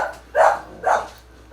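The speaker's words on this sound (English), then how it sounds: "Apparently somebody was knocking on the door, so the dogs were doing their job." Dogs barking indoors at someone knocking on a house door: two sharp, fairly close barks about half a second apart, with a quiet room in between.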